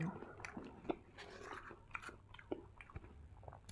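Faint, close crunching and chewing come from someone eating Friday's chocolate royal ice cream topped with peanuts, with soft bites scattered irregularly across the moment.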